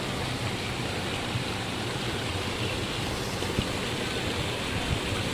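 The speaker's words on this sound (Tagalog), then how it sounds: "Agos ng agos, oh." Floodwater rushing through a creek in Metro Manila during Typhoon Carina, a loud continuous broadband roar with no pauses and no one talking.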